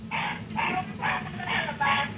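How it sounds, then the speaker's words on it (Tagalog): A dog barks in a rapid run of five even, regular barks over a steady background hum, fairly close and moderately loud. "sino ba yung tumatahol?"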